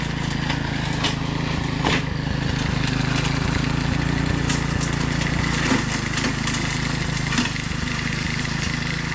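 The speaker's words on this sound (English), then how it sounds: "He's got his lawnmower bush hog." A lawn mower bush hog engine drones steadily and loudly throughout, a rough continuous mower-like rumble with occasional clanks and rattles.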